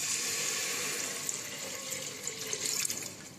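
Water pours steadily into a pressure cooker for a chocolate biscuit cake, a continuous near hiss and splash that stays fairly level throughout, with no voices.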